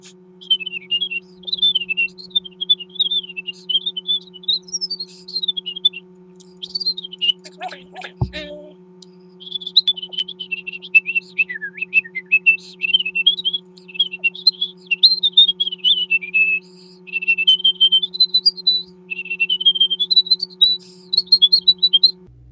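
A person whistles a melodic tune, roughly one and a half songs, in clear high sustained notes with a brief pause midway, over a steady low electrical hum.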